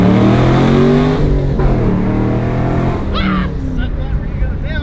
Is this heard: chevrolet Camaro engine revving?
yes